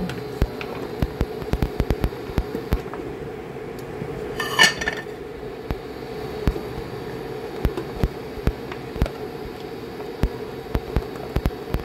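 Pumpkin pieces go into a pan for sautéing with string beans, giving scattered sharp clinks and scrapes of a utensil against the cookware over a faint steady hiss, close and fairly quiet.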